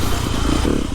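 A TM 300 four-stroke dirt bike engine runs loud and close on a wet track, a brief rough, throbbing burble with a gritty clatter.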